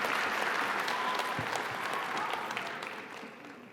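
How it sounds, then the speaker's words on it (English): Steady applause from an indoor graduation audience at a college ceremony, a dense wash of clapping that gradually fades over a few seconds. "Let's have a round of applause from the HSS grads from October 2021."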